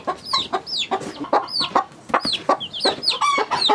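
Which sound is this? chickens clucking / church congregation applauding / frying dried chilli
chickens clucking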